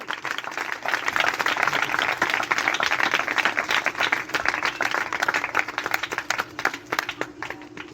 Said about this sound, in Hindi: उसके रहम के लिए मैं चाहूंगा कि आप जोरदार तालियां मारें।